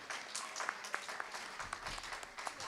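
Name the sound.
audience applause for the debate panel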